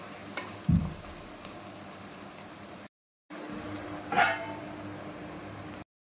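Mutton fry with garam masala sizzles steadily in a pan, a constant close hiss broken by a couple of brief stirring clunks and one short silent gap.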